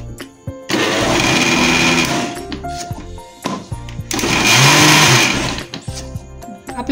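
Mango ice cream being whipped in a blender, heard as two loud whirring bursts of a couple of seconds each with quieter handling noises between them.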